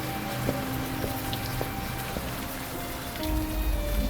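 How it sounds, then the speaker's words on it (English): Steady rain in the video game Old Skies patters on a surface, a continuous hiss with scattered drops, and a low rumble swelling near the end. "This friggin' rain."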